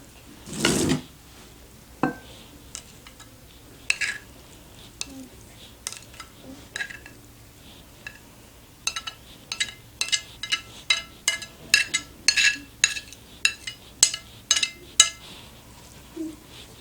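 Utensils clink and tap against a bowl while seekh kabab mince is mixed with spices, giving sparse knocks at first and then a quicker run of bright, close clicks near the end.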